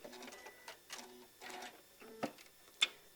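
A sewing machine stitches fabric for a maple leaf table runner, giving short rhythmic mechanical bursts and clicks at a quiet level with gaps between the runs.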